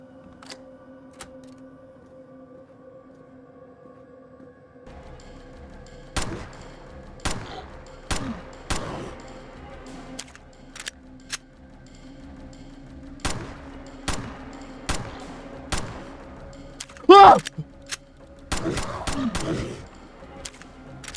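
Gunfire in the horror video game Mansion of the Dead: sharp, loud shots come singly and in quick clusters over a low, droning game ambience, with no talking.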